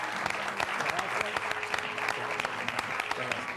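A studio audience on an Argentine television talk program applauds a master charango player as he is welcomed, sustained thick clapping throughout with some voices briefly audible beneath it.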